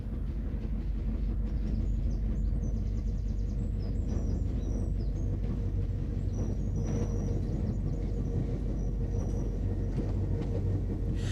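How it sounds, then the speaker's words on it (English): A suburban commuter train carrying early-morning passengers from Mullingar on Ireland's Sligo line rumbles steadily past at close range, a low continuous roar with rattling wheels and a few faint birds chirping above it. "suburban trains, such as this one that's carrying early morning commuters from Mullingar"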